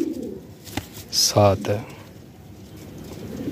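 A red pigeon offered for sale at a pigeon market gives a brief, soft coo at close range, along with a short chirp, while someone talks and other voices murmur in the background.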